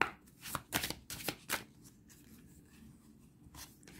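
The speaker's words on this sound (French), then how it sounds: "On va prendre deux cartes aussi." Oracle cards are shuffled and drawn from a deck, giving several quick papery riffles and flicks close up, then quieter card handling in a calm room.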